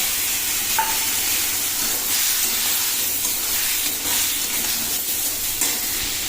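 Potatoes and eggplant fry in hot oil with spices stirred in, giving a close, steady sizzle and hiss with faint stirring scrapes and no voices.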